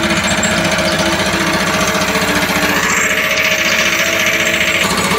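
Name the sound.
air compressor running, blowing pressurized air to clean grain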